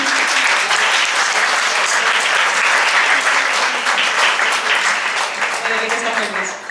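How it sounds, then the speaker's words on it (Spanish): Audience applause at a microtheatre performance, a dense, loud burst of clapping that carries on at full strength and begins to thin near the end. "ahí va el aplauso"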